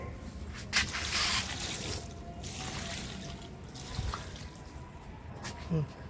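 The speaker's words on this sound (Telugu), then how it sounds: "మట్టి నాటడానికి ఫుల్గా వాటర్ పడుతున్నామండి" Water splashes and trickles in bursts onto garden soil while plants are watered, a rushing spray that starts and stops several times, close by.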